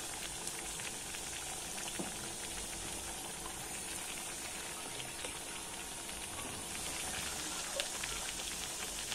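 Sabudana vada deep-frying in hot oil over a low flame, a steady dense sizzle and bubbling crackle that runs throughout with no talk.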